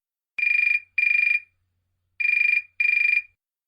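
Mobile phone ringing with a bright electronic trill, two short bursts, a pause, then two more, clear and alone in a quiet room.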